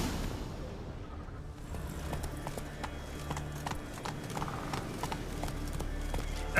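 Roach, Geralt's horse in The Witcher 3, galloping with rapid rhythmic clip-clop hoofbeats over a low ambient bed, close and steady throughout, with a brief whinny-like touch and no speech.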